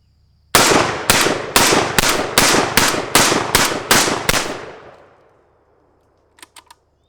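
A Panzer AR12 semi-automatic shotgun fires nine loud, evenly spaced rounds of alternating buckshot and birdshot in a quick steady rhythm, each blast ringing out outdoors before a long echoing fade and a few faint clicks.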